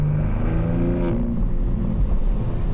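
BMW M3 Touring G81 with a single midpipe exhaust accelerating on a busy road, a loud, close, continuous engine drone with dense low harmonics that shift and climb over almost three seconds.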